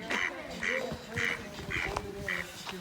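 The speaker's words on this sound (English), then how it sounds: "And we also have some duck friends." Ducks quacking on a trip in Nevada, five evenly spaced nasal quacks close by over a faint outdoor background.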